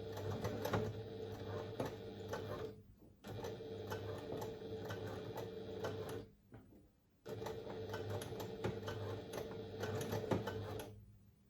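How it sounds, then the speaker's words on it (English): A sewing machine stitches across a fabric pouch to reinforce it, running in three steady mechanical bursts with two brief pauses between them, close but fairly quiet, with no voices. "I'm just going to sew across there to secure that and to reinforce it a little bit"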